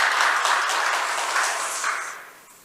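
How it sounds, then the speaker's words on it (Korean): A church congregation applauds together during a Sunday worship service, a dense, loud wash of clapping that thins and fades away within a few seconds. "이 시간을 통해 영광의 박수를 한번 드리겠습니다."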